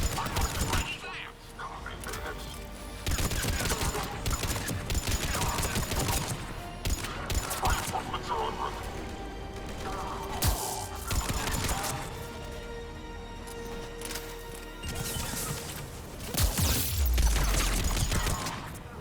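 Sustained gunfire in the video game Mass Effect 3 during a heavy attack, loud bursts and shots running throughout over music and game effects, with radio voices talking at times.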